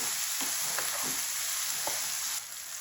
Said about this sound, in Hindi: बीच में टमाटर और प्याज डाले हैं। अभी इनको करेंगे अच्छी तरह मिक्स।